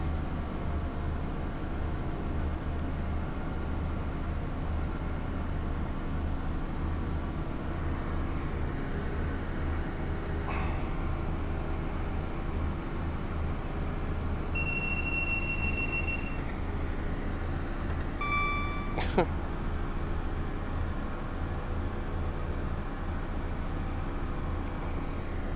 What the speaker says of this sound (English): HST. Going past me a lot quicker this time.